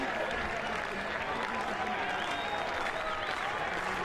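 Dense, steady applause and cheering from a large crowd at Kentucky Proud Park during a college baseball NCAA regional final between Kentucky and Indiana after a catch, a continuous roar that fills the whole stretch with a commentator's voice underneath.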